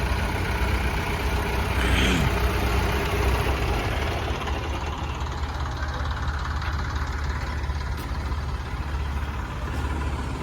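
A tractor engine runs steadily close by, a continuous low idling rumble with no voices over it, at a field where tractors are hauling sand.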